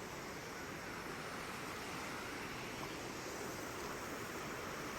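A mountain river in the Harsil valley near Dharali rushes past, split into two channels and carrying debris, a broad, unbroken roar of flowing water that is steady and even throughout, with no voices.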